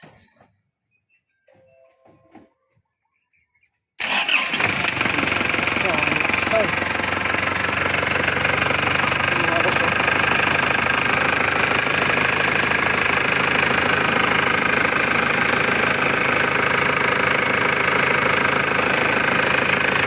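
An Isuzu Crosswind engine, freshly overhauled and overheating, starts up after a few seconds of quiet and keeps running loudly and steadily, with a rough, knocking rumble throughout.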